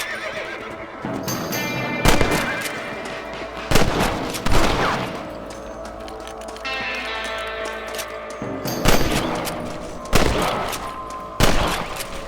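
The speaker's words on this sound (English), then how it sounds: "You're better at shooting rabbits than outlaws" Gunshots in the Red Dead Redemption video game while hunting rabbits, about half a dozen sharp, loud single cracks spaced a second or two apart over a horse whinnying and hooves clopping, with tonal music underneath.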